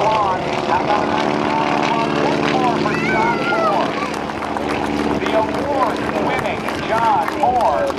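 A propeller aerobatic airplane flies low over an airshow field, its engine droning steadily and closely throughout, with a commentator's voice talking over it.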